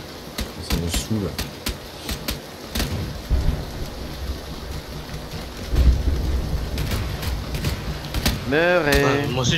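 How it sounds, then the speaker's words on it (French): Rain pours steadily through a video game match, with a few thunder rumbles underneath, while players talk over it throughout. "Oh putain, il pleut."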